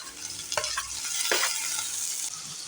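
Tomatoes tip into hot oil with softened onions in a pan for an ivy gourd curry, giving a steady close sizzle broken by a few sharp crackling bursts and stirring clatters.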